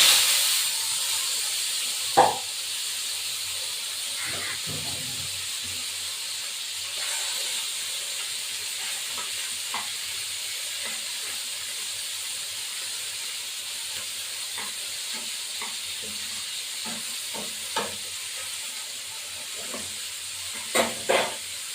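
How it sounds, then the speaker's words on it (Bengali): Morola fish frying in hot oil, a steady broad sizzle and hiss running throughout with a few brief louder crackles and clinks scattered over it, close and without talk. "এবার তেলটা গরম হবে তেলের মধ্যে দিয়ে দেবো গরম হয়ে গেছে দিয়ে দিলাম"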